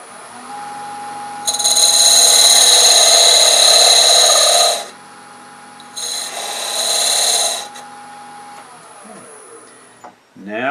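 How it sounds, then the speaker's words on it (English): A sixteenth-inch parting tool cuts a recess into a wooden box on a spinning lathe: two loud, close bursts of harsh cutting over a constant motor whine, the first longer than the second. "I'm going to take a parting tool, 16th inch parting tool, and I'm going to make a very slight recess in the back for the thread cutter to go into"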